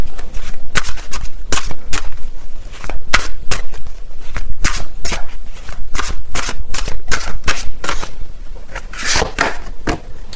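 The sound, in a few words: tarot cards being shuffled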